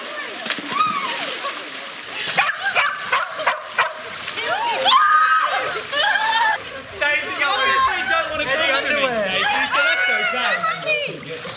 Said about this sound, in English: Pete, Nathan and Reggie contemplate going for a swim with the housemates.